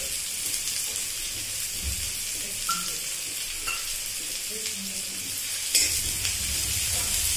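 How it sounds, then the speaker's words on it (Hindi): Finely chopped onion fries with cumin seeds in hot oil for egg bhurji, a steady close sizzle broken by scattered utensil taps and a louder scrape near the end. "जीरा डालने के बाद हम ये ऑनियन डाल देते हैं जो हमने बारीक काटी हुई है"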